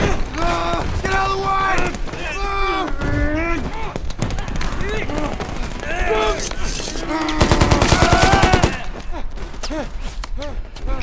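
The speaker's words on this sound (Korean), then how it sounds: "총성이 울리기 시작하고 하나 둘씩 쓰러져가는 병사들." Gunfire in a war film battle scene: sharp shots and rapid machine-gun bursts crack over shouting voices, with a dense volley near the end.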